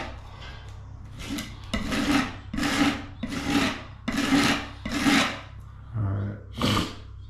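A putty knife scrapes excess patching compound off a swirl-textured wall in a series of about six rasping strokes, each a rough, gritty swipe up close with brief pauses between.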